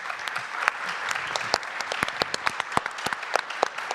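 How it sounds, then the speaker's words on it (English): Audience applause rings out at the close of a session on data governance in science and innovation, steady clapping with sharp individual claps standing out, moderately loud across the whole stretch. "So can I have a warm round of applause?"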